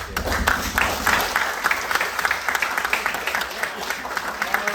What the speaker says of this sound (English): I would love it if everybody could give a big round of applause for all the coaches that we have here, Matt, Marco,